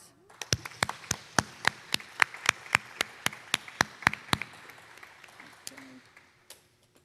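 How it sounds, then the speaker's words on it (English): At a middle school moving-up ceremony, one or two people clap in a steady, evenly spaced series of sharp, single claps in a quiet room, fading out near the end. "Let's give them a round of applause."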